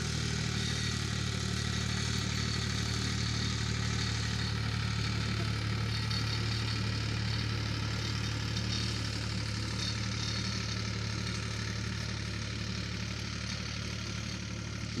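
An old Ford 3600 tractor engine idles steadily and loudly up close, a continuous low throbbing rumble that holds without a break throughout.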